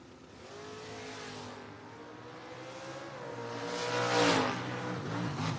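Drag race cars, including a Camaro, launching down the strip: engines rev and roar, building to a louder pass, heard from a distance.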